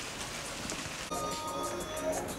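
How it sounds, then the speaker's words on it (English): Steady rain falls outside during a flooded Easter bank holiday, a continuous broadband hiss of drops on surfaces that shifts slightly partway through, with no talking. "We've got a lot of rain."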